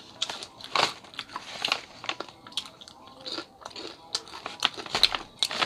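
Crunchy Crunch 'n Munch snack being eaten up close: repeated crisp bites and crunching chews in an irregular rhythm, with faint crinkling of a snack bag between them.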